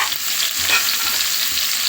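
Tomatoes frying in hot oil in a pan for a brinjal chicken curry, giving a continuous bright sizzle with soft stirring scrapes throughout, close and steady, with no talking.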